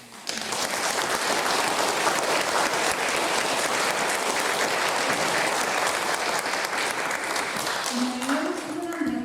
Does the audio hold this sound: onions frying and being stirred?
no